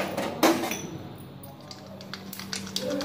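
Mustard seeds crackle in hot oil while raw mango thokku is being made, giving sharp scattered pops and small clinks in an uneven pattern: one loud snap early on, then lighter, irregular crackles close by.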